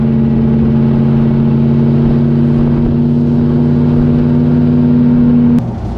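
A 1934 Mercedes 380 Cabriolet C with a supercharged eight-cylinder engine cruises along a country road, its loud, even engine drone holding steady before dropping off abruptly near the end.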